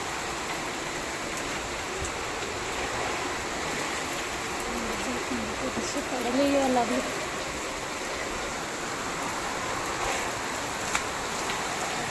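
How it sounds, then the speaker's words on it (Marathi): Sudden heavy monsoon rain with gusting wind in Pune, a dense steady roar of downpour filling the whole scene, with a brief voice speaking partway through. "जोराचा एकदम अचानक पाऊस आला वारं वारं"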